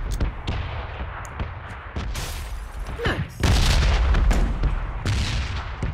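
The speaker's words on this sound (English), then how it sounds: "We're gonna practice throwing grenades." Grenade blasts in a video game, a string of loud booms and gunfire-like bursts, with a heavier, sustained rumble in the second half, no talking over it.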